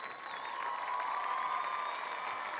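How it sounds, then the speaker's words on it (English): A crowd applauds the Lady Panthers state champion softball team, a soft, distant wash of clapping and light cheering that holds steady throughout with a faint tonal hum underneath. "And give a big round of applause for your Lady State Champions."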